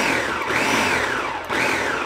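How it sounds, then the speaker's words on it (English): Blender pulsing strawberry banana smoothie ingredients with milk, a steady loud whirring motor with a brief dip in speed partway through before spinning back up, heard alone without talk. "I usually start by pulsing"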